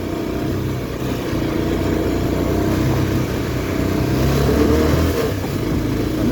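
A vehicle drives along a dry, dusty road, its engine giving a steady, continuous rumble and roll of tyres that stays fairly loud and close throughout, with no talking.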